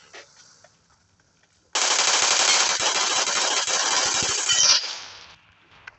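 Automatic gunfire in the battle royale game PUBG on the Erengel map, one loud sustained burst of rapid shots lasting about three seconds, close and dominant, before fading out.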